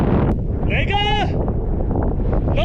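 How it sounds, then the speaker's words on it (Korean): Wind blowing across the Kubuqi desert in China, gusting steadily against the microphone with a low roaring rumble and a brief tonal squeal midway. "너 때문에 봄마다 창문을 못 연다. 그만 좀 불어라 바람아."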